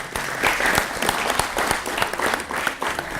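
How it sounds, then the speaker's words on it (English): A room full of people at a business model competition claps for the winners, a lively, close burst of applause with distinct individual claps throughout. "let's just do a quick round of applause for the winners"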